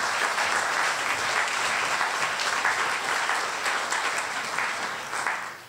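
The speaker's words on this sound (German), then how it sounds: "Applaus bitte." An audience at a Frankfurt web meetup applauds a speaker, dense sustained clapping from a full room that stays loud and even before tapering slightly at the end.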